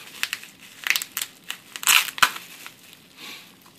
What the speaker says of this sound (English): Comes wrapped in bubble wrap packaging.